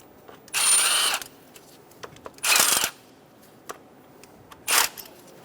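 A power tool with a 6mm hex head backs out the ignition coil bolts on a 2003-2007 Honda Accord 3.0L V6, running in three short, loud whirring bursts with quiet pauses between them.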